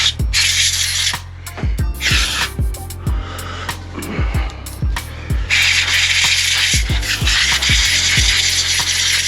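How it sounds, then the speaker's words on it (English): Compressed air duster can spraying into the indicator contacts of a 2003 Honda CBR 600 RR, long hissing bursts close to the mic, broken by clicks and short gaps between sprays. "just using a bit of blowpipe spray duster can"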